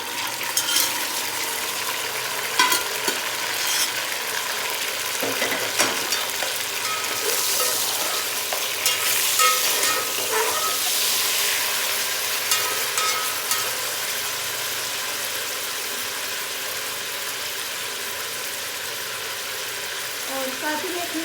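Boiled mutton sizzles and fries in a pot, a steady loud hiss with occasional scraping stirs and clinks of a spoon against the metal, continuing throughout.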